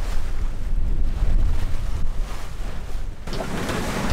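Wind gusts and breaking waves at sea aboard a sailboat crossing to the Gambier Islands in Polynesia, a steady loud roar of wind on the microphone with surging water, easing slightly near the end.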